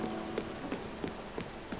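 Light rain pattering in the video game Spiritfarer, a steady soft hiss with faint scattered droplet taps, quiet and even throughout.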